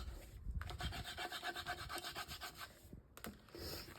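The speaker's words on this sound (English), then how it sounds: "You can burnish these really good like that." A hand rubs hard across folded paper mini-album pages to burnish them, a close, scratchy rhythmic rasping of repeated strokes with a short pause near the end.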